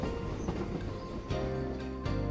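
A train in the Sundarbans region rumbles along steadily with a low, continuous rolling drone and faint rhythmic clatter from the wheels, fairly close.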